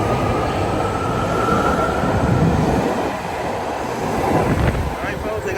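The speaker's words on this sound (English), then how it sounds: "this is a Richmond Train 6 car on the red line at Powell Street Station" A six-car BART Richmond red line subway train departs Powell Street Station in San Francisco, a loud continuous rumble and roar of wheels on rails with faint squeals as it pulls away.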